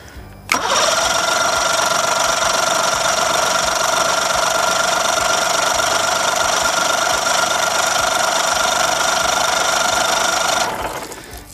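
A Mercury 60 hp outboard motor is cranked over without starting, giving a loud, steady whirring drone that runs unbroken for about ten seconds and then stops.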